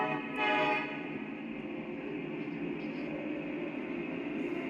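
An O scale model train creeps slowly along a layout toward a low-clearance tunnel, a faint steady rolling hum and rumble with a brief louder swell at the start, no voices.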